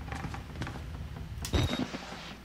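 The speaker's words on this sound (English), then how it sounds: "A lot of creepy freaking creaking noises." Creepy creaking noises in the horror video game Outlast, a few short groans and creaks with a louder burst of creaking midway, heard alone.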